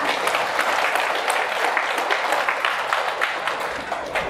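An audience claps in sustained, dense applause at a talk on traditional veterinary medicine, loud and steady for several seconds with no speech over it.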